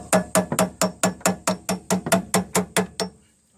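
Around thirteen sharp, evenly spaced hammer blows strike a wood chisel during rear wheel bearing work on a 2002 Nissan Maxima, ringing metallically up close before the strikes stop and the sound fades.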